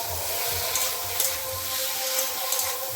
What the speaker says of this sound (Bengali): একটু নেড়ে চেড়ে ভালো করে কষিয়ে নিতে হবে